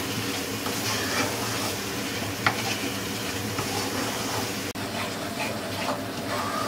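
Spice masala fries in oil over a medium flame for a Bengali hotel-style fish curry, giving a steady, close sizzle with faint scraping stir strokes and one brief knock partway through; nobody speaks.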